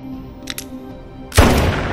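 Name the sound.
gunshot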